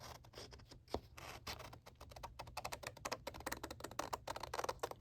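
Scissors cut out paper ephemera for papercraft, making a quiet, close, continuous patter of small snips and paper rustles at an uneven, busy rhythm.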